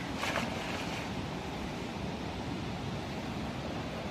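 A wide river rushing steadily, a dense broadband roar of flowing water with a brief brighter splash near the start, constant and fairly close with some wind buffeting, no voices.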